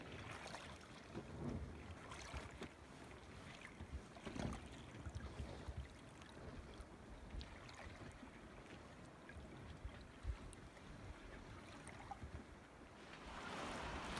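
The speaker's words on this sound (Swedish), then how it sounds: "Seglar genom Mellskären." A boat sails through skerries in near-calm weather, with faint water washing against the hull and soft wind sounds throughout, fairly quiet and steady.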